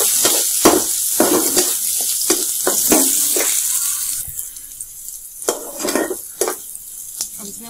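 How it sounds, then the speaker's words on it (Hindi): Cumin, bay leaves and chopped onion fry in oil to a hissing sizzle, broken up by repeated sharp spatula scrapes and knocks in an irregular rhythm, close and loud at first and then quieter and sparser. "आधा चम्मच जीरा, एक कटी हुई प्याज। अब इसे हम गोल्डन ब्राउन होने तक भून लेंगे।"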